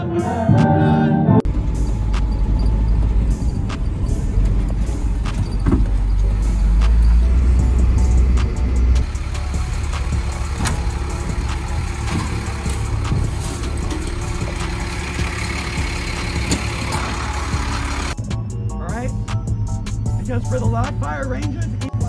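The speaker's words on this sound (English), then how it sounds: "Only in the army that you'll be stuck in traffic before 6 a.m." Army cars and trucks idling in a predawn traffic jam, a steady low engine rumble holding close and constant throughout, with a brief shift in tone near the end.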